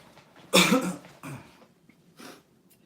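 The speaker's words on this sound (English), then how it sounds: "I try to control my coughing" A few harsh, close coughs burst out in a quick cluster during a haircut, followed by a softer cough and a faint throat-clearing sound in an otherwise quiet room.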